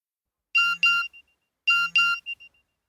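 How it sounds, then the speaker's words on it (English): Two short electronic chime tones, each a pair of bright beeps followed by a faint tail, sound alone in a quiet space. "My mobile phone beeped."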